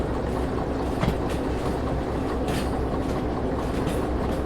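A freight train rolls on track in the Derail Valley simulator game, a continuous close rumble with faint rhythmic clickety-clack from the wheels and no talking.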